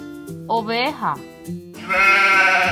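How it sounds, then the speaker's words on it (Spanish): A sheep bleats in a few short, wavering calls, close and clear, ending in a longer sustained bleat. "Oveja."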